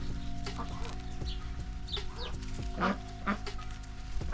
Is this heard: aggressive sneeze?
no